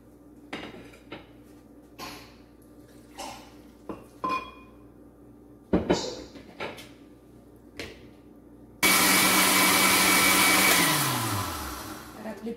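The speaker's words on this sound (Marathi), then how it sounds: "आता आपण पालक, लसूण आणि मिरची हे मिक्सरला वाटून घेणार आहोत" Spinach, garlic and green chili are blended with hot water into a purée in a kitchen mixer grinder. A few clinks of utensils come first, then a loud, steady whirring grind that winds down at the end.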